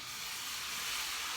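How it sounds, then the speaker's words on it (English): Vegetable stock poured slowly into a hot pan of cooked-down flour and vegan butter gives a steady, loud, close sizzling hiss that holds evenly throughout, with no talking. "I'm going to go ahead and add some vegetable stock to the pan"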